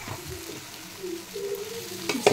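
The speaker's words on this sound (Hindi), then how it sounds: "इसे मैं मिक्स कर लेती हूँ।" Chili sauce and tomato ketchup being stirred into soy sauce in a pan for homemade pasta, a soft scraping stir over a low sizzle, ending in a couple of sharper clinks of the spoon against the pan.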